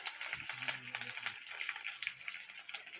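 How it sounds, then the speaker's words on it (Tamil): Black pepper and garlic sauté in a pan for a banana-flower kootu, giving a faint, steady sizzling hiss with soft stirring scrapes. "மிளகு பூண்டு நல்லா போட்டு வதக்கிக்கோங்க"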